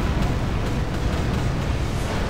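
Ship cannon fire in the Tempest naval game: a dense, loud, sustained rumbling boom that fills the whole short stretch with low-heavy roar and no break.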